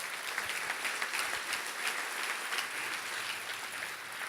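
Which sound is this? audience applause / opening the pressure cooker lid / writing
audience applause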